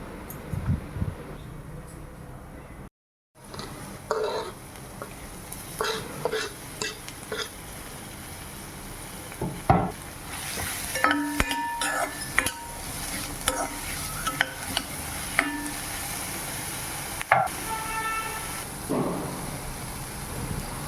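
Onion pieces are stirred and fried in a pan until browned, with repeated scraping stirs over a steady sizzle, close and fairly loud, no speech.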